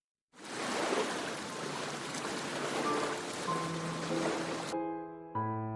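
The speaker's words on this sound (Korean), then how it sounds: "진심을 말하면 맑은 물소리가 들리지요" A clear stream of flowing water rushes steadily for about four seconds at moderate level, then cuts off abruptly and gives way to soft sustained musical tones.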